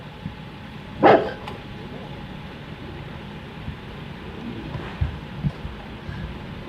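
Overprotective Rottweiler at a dog training session giving a single loud bark early on, followed by quieter thumps and scuffles in a room.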